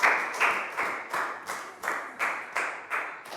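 Children in a Year 3 classroom clap in a rhythmic unison pattern, about nine sharp, evenly spaced group claps ringing out close by and moderately loud, with no voices in between.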